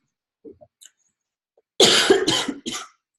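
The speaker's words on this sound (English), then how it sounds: "Sorry, I keep coughing." After a few faint small noises, a close burst of three harsh coughs rings out in quick succession.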